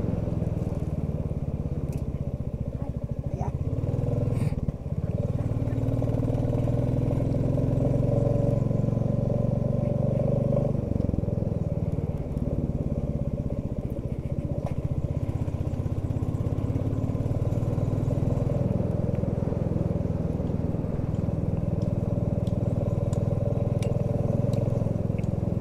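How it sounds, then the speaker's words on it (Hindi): A vehicle engine runs steadily and loudly throughout, with a chu-chu squeak that appears when accelerating, on a car that has covered 1800 km on a return trip from Siachen base camp in Ladakh; no one speaks. "गाड़ी के इंजन में चू चू की आवाज आ रही है।"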